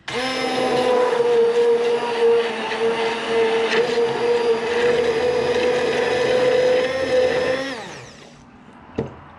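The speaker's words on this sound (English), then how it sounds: "now this is what's going to make my tincture process faster. I'm going to put my blender in there." A countertop blender whirs at a steady high pitch while blending herbs and hemp leaves for a home tincture, running loud and continuous for about eight seconds before spinning down, followed by a faint clunk.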